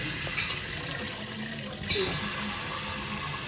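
Water splashes and pours while a goldfish's water is being changed, fairly faint, with a brief louder gush partway through and a voice talking faintly in the background.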